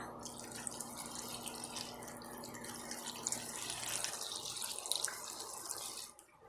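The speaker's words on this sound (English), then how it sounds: "Now we're going to fill it up with some water." Water runs from a kitchen tap into a pot of potatoes, a steady, faint splashing and trickling stream that fills the pot for several seconds before stopping.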